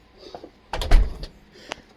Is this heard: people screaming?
no